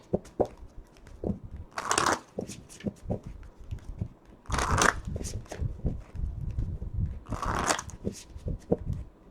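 A deck of cards being shuffled in several bursts of riffling and fluttering, close up, separated by softer handling and tapping sounds.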